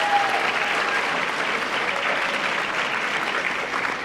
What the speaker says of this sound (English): Round of applause to the girls.